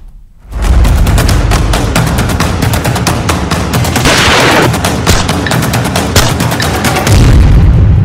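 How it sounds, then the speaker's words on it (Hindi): Heavy gunfire from a gang-war shooting at a burger shop in Delhi sounds as a loud, dense stream of rapid cracking shots that runs almost unbroken for several seconds after a quiet start. "ताबड़तोड़ फायरिंग से थर्राई दिल्ली।"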